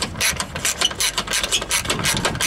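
Number 10 socket ratchet turning while installing a radiator, a rapid run of dry mechanical clicks close up, steady and continuous with no talk.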